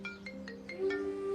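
A mobile phone ringtone plays at moderate volume as a repeating melodic tone pattern with several rhythmic pulses, with no talking over it.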